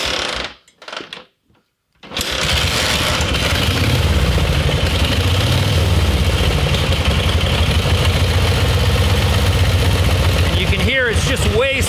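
Horizontal Harley-Davidson engine with low compression and a side step start coughs to life after a brief crank, then settles into a loud, even, steady idle close by.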